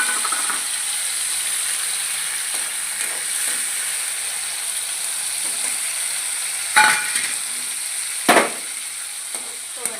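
Tomatoes for a peanut and tomato chutney frying in a pan, giving a continuous loud hissing sizzle with a couple of sharp stirring clacks.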